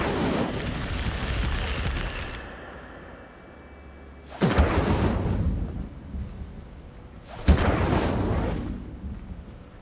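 The Incendio fire spell in Hogwarts Legacy casts with repeated loud, booming whooshes, each bursting in sharply and rumbling away over a few seconds, with no voices.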